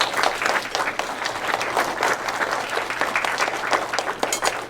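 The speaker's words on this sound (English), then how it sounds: "How about a nice round of applause for our senior class officers?" Audience at a school leadership event applauding senior class officers, a steady wash of many hands clapping throughout, dense and fairly loud with no speech over it.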